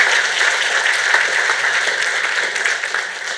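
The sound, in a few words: applause for donors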